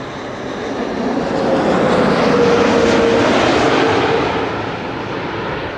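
An airliner on final approach to land at Amsterdam Schiphol Airport, a loud jet engine roar that swells as it passes close by and then eases off, with no voices.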